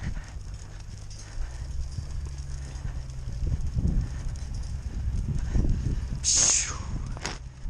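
Four colts move together in a round pen, hooves thudding softly and irregularly on the ground, with a sharp brief sound near the end over low background noise.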